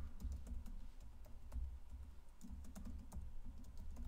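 Keys clack in a steady run of quick taps as a password is typed on a computer keyboard, close and fairly quiet, with no voices.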